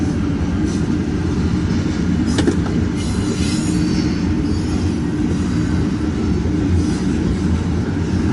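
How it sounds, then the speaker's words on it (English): A freight stack train rolls steadily past with a constant heavy rumble and rail noise, and a few brief wheel squeals and clanks rise above the din throughout. "And then even more stack train."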